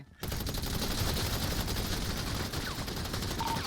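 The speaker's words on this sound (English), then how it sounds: "Shots fired, shots fired." Heavy gunfire in a GTA roleplay video game during a casino shooting, a continuous dense volley of overlapping shots starting abruptly and staying loud throughout.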